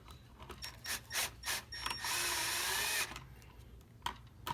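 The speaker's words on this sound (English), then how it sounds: "I'm going to go ahead and just show you how easy this drill actually is." A power drill drives a screw into a three-way light switch during wiring work, with a few short whirring bursts and then one steady, close, fairly loud run of about a second before it stops, with no talking.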